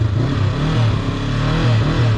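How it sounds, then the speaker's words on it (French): A motorcycle engine held at low speed, the rider feeding in throttle during a slow-riding exercise. The rumbling exhaust swells and eases in steady rev surges, loud and close, with no voices. "plus je suis lent, plus je vais mettre du gaz"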